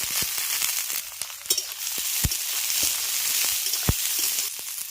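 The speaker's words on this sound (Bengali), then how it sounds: "আমি সমস্ত কিছু একসঙ্গে ভেজে নিচ্ছি" Chopped beans and carrots frying together in a pan, a bright, continuous hiss of sizzling oil punctuated by sharp pops and spatula taps at irregular intervals.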